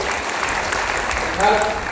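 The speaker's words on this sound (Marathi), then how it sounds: "आपण टाळ्या वाजून त्याचं स्वागत करूया" A crowd claps steadily throughout at a memorial Ganga puja gathering, dense applause with a brief swell near the end and a voice faintly mixed in.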